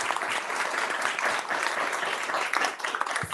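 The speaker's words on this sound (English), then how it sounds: "Yeah, you can clap. You can clap." Sustained, dense applause from an audience at a township council meeting, steady and fairly close throughout.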